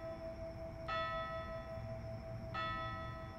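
A church bell tolling in the video game A Day Without Me, with two bright resonant strikes about a second and a half apart ringing out over a low ambient drone.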